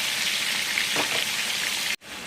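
Chicken pieces frying in a pan for a creamy mushroom chicken dish, a close steady crackling sizzle with faint clinks, cut off abruptly near the end.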